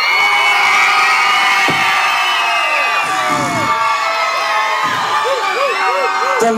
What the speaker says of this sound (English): Whoever gets the loudest applause and cheer goes home with the Checkers goodies.